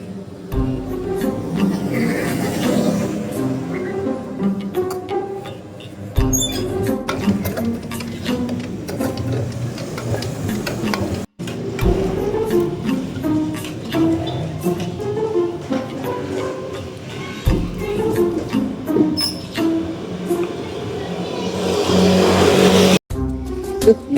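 Motorcycle engine at a repair workshop, loud and close, revving repeatedly in surges with abrupt cut-offs between bursts, the rasping tone rising and falling over roughly twenty seconds.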